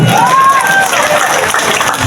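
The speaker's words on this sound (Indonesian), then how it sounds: "Tepuk tangan dulu" Crowd applause at an outdoor campaign rally in Bali, a loud burst of clapping and cheering with a whistle rising briefly over the crowd noise.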